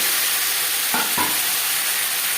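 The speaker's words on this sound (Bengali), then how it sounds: "মাছ ভেজে নেওয়ার তেলে দিয়ে দেবো কালো জিরে, 20-25 সেকেন্ড কালো জিরে ভেজে নেওয়ার পর দিয়ে দেবো বেগুন।" Eggplant drops into hot oil left from frying hilsa, with nigella seeds already crackling, bursting into a loud sizzle about a second in over a steady, close frying hiss that continues alone.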